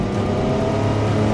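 Porsche 962 turbo Le Mans race car engine held in third gear, a loud steady close drone with a rough rasping tone and no gaps.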